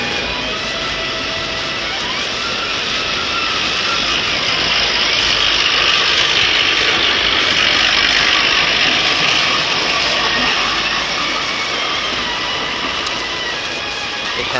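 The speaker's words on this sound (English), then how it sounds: "Here comes a big steam lorry up the street." A heavy steam lorry rumbles and clatters steadily up a street, its mechanical churning loud and continuous over a dense background of street noise.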